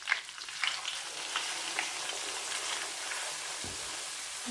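Pieces of fish sizzling steadily in hot oil for a choukouya dish, a dense crackling hiss with scattered pops, close and continuous.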